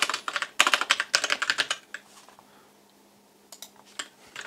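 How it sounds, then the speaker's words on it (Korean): A computer keyboard clatters with a quick burst of close, crisp keystrokes during a prize draw, then falls quiet before a few isolated taps near the end, with no talking. "엔터 누르겠습니다."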